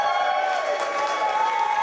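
A live studio audience roars in a dense, sustained wall of cheering and shouting, loud and continuous throughout with no gaps.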